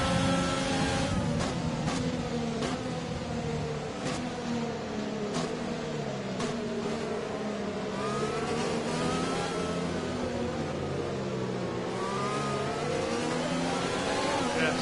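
A Formula 1 racing car engine from the F1 2020 game, a Jaguar Racing team car at the China race, screams loudly and continuously with rising and falling pitch sweeps as it accelerates and shifts gears.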